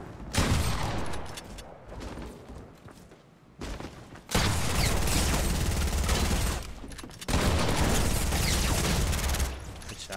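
Rapid automatic gunfire from Fortnite, played on PC, rattles in loud sustained bursts broken by a short quieter gap, with dense crackling shots that stop and restart abruptly.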